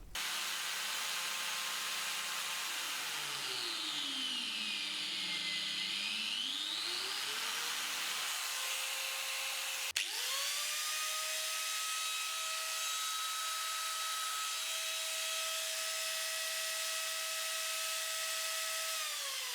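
Mini carving grinder fitted with a new, quieter motor, whining at a steady pitch that dips and rises as it cuts into material, then spins freely at no load with a clean sustained tone after a brief pause.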